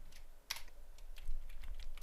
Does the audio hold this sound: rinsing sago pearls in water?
no